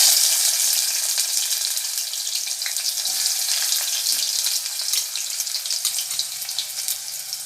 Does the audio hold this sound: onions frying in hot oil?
yes